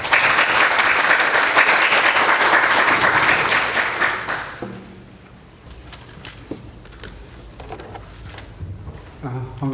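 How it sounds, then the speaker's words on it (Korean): Audience applause at a Korean nuclear safety regulation workshop, loud dense clapping for about four and a half seconds that fades out, followed by quieter room noise and shuffling. "이은철 교수님을 박수로 단상에 모시겠습니다."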